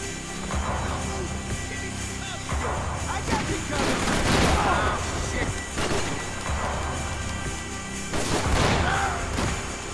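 Shotgun blasts and surrounding gunfire in the video game Max Payne 3, several heavy booming shots with crashing impacts spread across the stretch, loud and close, mixed with game noise and a player talking.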